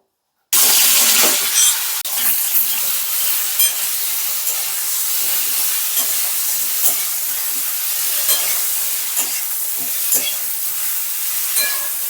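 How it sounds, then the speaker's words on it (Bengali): After a moment of silence, okra hits hot mustard oil with a loud, continuous sizzle, punctuated by the scrape of stirring. "ঢেঁড়সটা দিয়ে দিই তেলের মধ্যে ভেজে নেবো"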